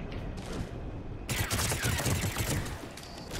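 Sustained automatic gunfire from the video game Mass Effect 3 rattles in a loud, continuous burst that grows heavier partway through.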